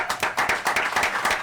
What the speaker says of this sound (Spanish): un gran aplauso a Canal 20